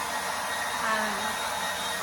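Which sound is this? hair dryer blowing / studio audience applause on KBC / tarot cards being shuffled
hair dryer blowing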